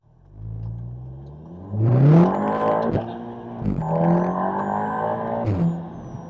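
Volkswagen Golf R engine pulling away in a 2020 drive, revs climbing then dropping with each gear change, several rising-and-falling engine sweeps heard from inside the car.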